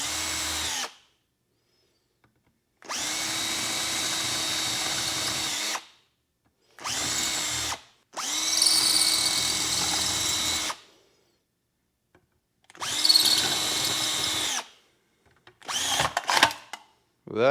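Power drill boring out rivets on a battery tender, in five or six loud close bursts of whining drilling separated by silent pauses, the last ones short and choppy.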